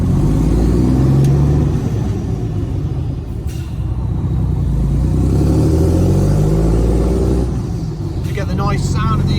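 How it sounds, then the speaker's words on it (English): Exhaust of a Foden truck with a Cummins engine while driving, a loud continuous low rumble with pitch shifts as it pulls along, and someone talking over it. "You get the nice sound of the exhaust as well today."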